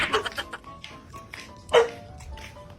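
A dog barks and yips several times in short bursts, fairly close, with one louder bark near the middle and quiet background noise between.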